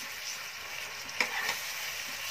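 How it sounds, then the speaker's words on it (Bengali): Food being sautéed and stir-fried in a pan for a Bengali dish: a steady, fairly quiet frying hiss with a brief scraping stir near the middle, close and continuous, no voices. "এবার এটাকে আমি ভালো করে কষাবো।"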